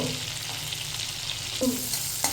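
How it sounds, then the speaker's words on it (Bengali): Dried red chillies and whole garlic cloves fry in hot oil for home cooking, giving a steady close sizzle and crackle with a brief burst of stirring near the end. "শুকনো লঙ্কা ওগুলো ভাজবো"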